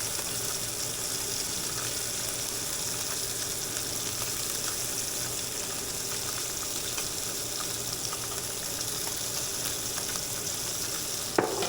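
Bluefish fillets fry in butter in a pan, giving a continuous soft hiss and sizzle that holds evenly for about twelve seconds, with faint crackles and one small clunk near the end.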